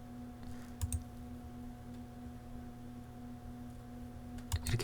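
A few short bursts of computer keyboard key presses, including the Shift key, made while drawing a spline in AutoCAD 2020. The clicks are quiet and close, over a steady electrical hum, with no talking.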